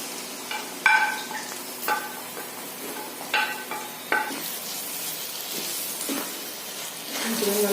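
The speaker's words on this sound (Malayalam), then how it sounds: "നമുക്ക് ഈ മുട്ടയും കൂടി ഇതിലോട്ട് ഒഴിച്ചു കൊടുക്കാം." Fish roe poured into a hot pan for a Kerala-style fried roe dish, sizzling steadily with scattered scraping and clinking of a spoon against the pan, moderately close.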